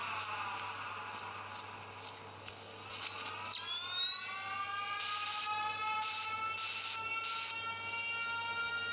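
A rising and sweeping siren wails in the Mental Hospital V horror video game, its tones climbing and holding steadily over a constant low hum, with a few sharper bursts near the end.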